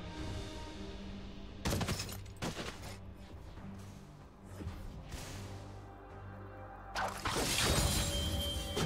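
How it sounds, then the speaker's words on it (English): A turret collapses in League of Legends: broad crashing bursts with rumbling debris and impacts, loud and layered over game effects, with one big crash near the start and another at the end. "Blue team's turret has been destroyed."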